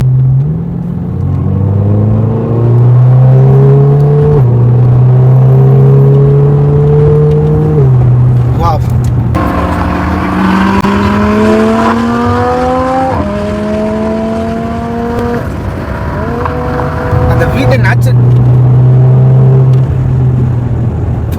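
An Audi R8 V10 fitted with a custom loud exhaust drives past in a long, loud pass, its engine climbing through repeated rising revs with gear changes and a steady deep rumble.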